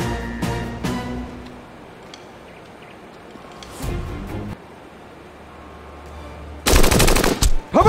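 Video game gunfire from Jagged Alliance-style combat in JABIA2: scattered single shots and short bursts early and mid-clip, then a loud, dense automatic burst near the end, with sparse background sound between.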